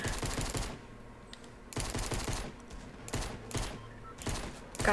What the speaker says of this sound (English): I miss a lot of shots right there